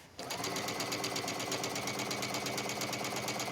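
A sewing machine runs steadily while stitching wrap dress fabric, its rapid, even mechanical whir close and continuous from just after the start.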